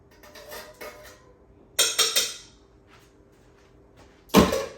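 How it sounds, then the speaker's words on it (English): A whole 28-ounce can of Red Gold crushed tomatoes goes into a cooking pot, with a few bursts of thick sauce sliding and plopping out and a sharp knock of the can against the rim at the end. "Put that whole can in there."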